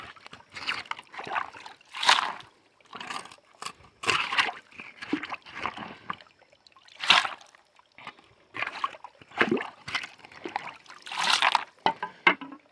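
Cold spring-fed stream water in Allegany National Forest trickles and sloshes in uneven bursts, close and fairly loud, with irregular splashing pulses separated by brief quiet gaps.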